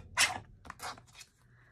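Scissors or a blade trim off a white piece of paper for a scripture junk journal, giving a few short crisp rustling snips in quick succession, close and fairly quiet.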